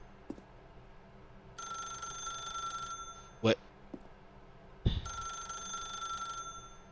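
A telephone rings in The Stanley Parable video game, two long electronic ring bursts separated by a pause, fairly quiet, with a brief spoken word and a couple of sharp clicks between them.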